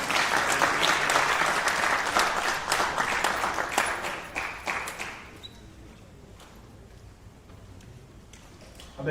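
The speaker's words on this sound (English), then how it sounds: "Let's give him a round of applause." Audience applause at a band directors conference, loud sustained clapping from a crowd that fades away after about five seconds, leaving a quiet room.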